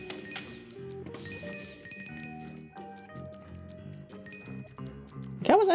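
Coins spill from a faucet in the video game Luigi's Mansion 3, clinking and tinkling in a run of bright metallic chimes over a musical game backdrop, with a louder burst near the end.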